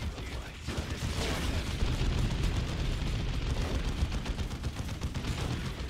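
Explosive shot ability detonating in a Dawn of War II battle against orcs: a dense, continuous roar of blasts and gunfire that holds steady and loud for the whole stretch, with no voices.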